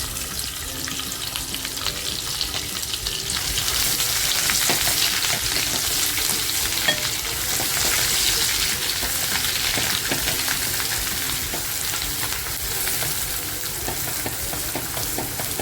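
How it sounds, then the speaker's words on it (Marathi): Garlic and homemade masala fry in hot oil for a spicy mutton rassa, a loud, steady crackling sizzle with occasional stirring scrapes, running unbroken throughout. "मसाला बघा छान फ्राय झालाय"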